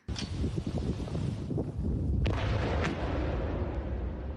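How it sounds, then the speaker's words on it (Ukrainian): Ammunition depot detonating near Dzhankoi in occupied Crimea: a dense, continuous roar of rumbling blasts with sharper bursts near the start and middle, loud and sustained throughout with no voices. "Детонація боєприпасів на складі воєнного назначення під Жанкоєм"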